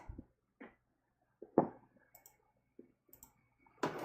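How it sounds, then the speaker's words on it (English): Computer mouse clicks while navigating menus, a sparse series of short, close clicks spaced irregularly over a few seconds, quiet and otherwise near-silent. "After clicking through a bunch of menus, I got it."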